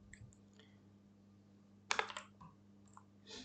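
Computer keyboard keys tapped to type a short command, a few soft, close clicks, then a quick cluster of louder keystrokes and another brief burst at the end, over a faint electrical hum.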